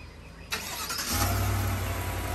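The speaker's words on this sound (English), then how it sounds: "I'm gonna go ahead and remote start the truck." A 2021 GMC truck's engine starts by remote, a brief cranking burst followed by a steady low idle rumble, heard nearby with no talking.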